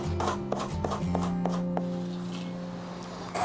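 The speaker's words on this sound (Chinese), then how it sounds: "刚才剩下的葱绿我们给它切断，然后1小块红椒我们切条。" A kitchen knife chops scallion greens and slices red pepper into strips on a cutting board, giving several crisp close taps at an uneven pace over a low hum of background noise.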